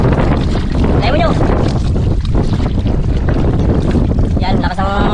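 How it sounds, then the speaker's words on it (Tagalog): Strong sea wind batters the microphone on a small fishing boat offshore, a loud constant roar with water slapping the hull, and people talk over it. "lakas ang hangin ngayon mga idol"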